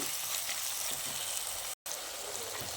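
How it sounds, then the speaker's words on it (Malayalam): Curry leaves and crushed spices sautéing in a pan for a spicy red snapper curry, a broad steady hissing sizzle that cuts out for a split second partway through. "പിന്നെ ഒട്ടും മടിക്കേണ്ട നമ്മൾ ചതച്ച് വെച്ചേക്കുന്ന സാധനങ്ങളിലൂടെ ഇട്ട് കൊടുക്കാം പിന്നെ കറിവേപ്പില ഇത് നന്നായിട്ട് വഴറ്റിയെടുക്കുക"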